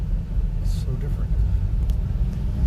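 A lifted 4x4 mini truck with a scissor-lift dump bed runs on its little 3-cylinder engine, giving a steady low rumble throughout at an even, close level.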